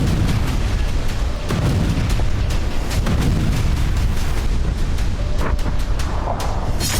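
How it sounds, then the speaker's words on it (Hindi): Bombing in Hama, Syria, with heavy explosions rumbling continuously, deep booms and blasts layered over a dense roar that stays loud throughout. "शहर के पास जबरदस्त विस्फोट की ये तस्वीरें भी हामा शहर की हैं"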